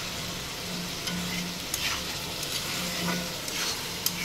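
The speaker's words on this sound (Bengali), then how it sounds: "এই যে বুটটা ভাজি করে নিতেছে" Boiled chickpeas frying in a pan, giving a steady close hiss of sizzling with occasional light stirring scrapes and clicks throughout, no talking.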